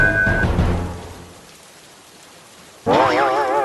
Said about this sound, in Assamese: বাহিৰত ইমান ডাঙৰ বৰষুণ দিছে